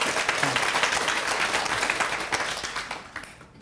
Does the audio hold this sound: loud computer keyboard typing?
no